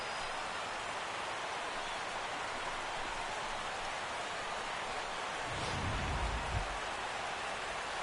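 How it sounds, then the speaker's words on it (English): Rain falls during the sixth inning of a baseball video game, a steady dense hiss of downpour that holds evenly throughout, with a brief low rumble near the end. "Rain continues to fall here in the 6th."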